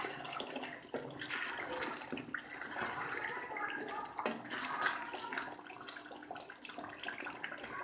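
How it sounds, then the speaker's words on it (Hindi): A handful of small green chillies frying in a pan for a beef karahi, a steady hissing sizzle at medium heat that runs throughout at low volume, with faint clatter now and then. "हुण मैं इन्हूं एन अच्छी तरह भुन लूँगी।"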